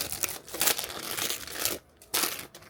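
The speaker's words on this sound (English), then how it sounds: "Sorry for the crinkling." Plastic packaging of a square needlework kit crinkled by hand in short bursts, close and fairly quiet, with a brief pause before more rustling; no talk.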